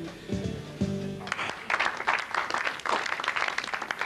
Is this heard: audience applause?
yes